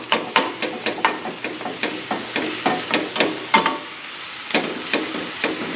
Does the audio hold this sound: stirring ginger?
yes